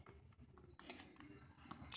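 Quiet, irregular clicks of typing on a computer keyboard, a few scattered keystrokes followed by a quicker run of taps, close and soft.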